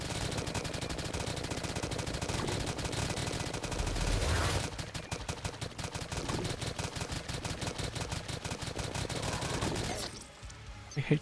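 Shotgun blasts fire in rapid, relentless succession during a Terraria Calamity deathmode boss fight against the Perforator, a dense crackling fusillade that holds a steady rhythm for about ten seconds before cutting off sharply.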